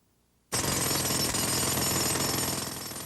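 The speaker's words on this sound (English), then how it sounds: "The workmen's hammers were busy pounding away at the canopy's concrete pilings today." Jackhammer-style pounding on concrete canopy pilings at a demolition site, starting abruptly after a short silence and continuing as a loud, dense, steady rattling roar.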